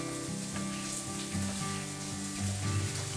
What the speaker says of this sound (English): Smell those onions getting done behind me.